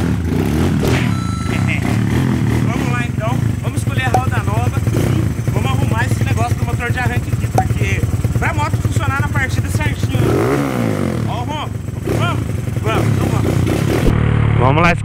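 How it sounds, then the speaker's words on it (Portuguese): Honda Today scooter engine running just after a push-start, a steady close engine drone throughout with a voice talking over it. "Ó, ó o ronco da Today, jeito que tá, mano."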